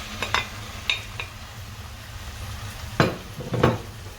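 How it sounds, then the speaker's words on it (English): Chopped tomatoes dropped into onions sautéing in a pan for pizza sauce, a soft frying hiss under several sharp spoon-and-pan clinks and stirring scrapes, two louder bursts near the end. "We are adding our tomatoes now."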